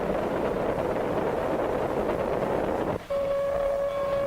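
A distant train engine from around 1950 rumbles steadily under heavy wind noise, and about three seconds in a sustained tonal whistle or hum cuts in and holds to the end.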